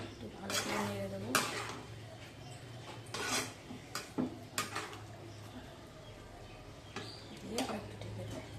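Food with ketchup and a little water is stirred in a cooking pot, the spoon scraping and clinking against the metal in irregular bursts while a voice speaks nearby.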